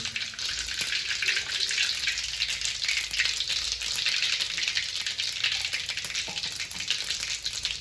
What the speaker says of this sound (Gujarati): વઘાર ચાલુ થઈ ગયો છે.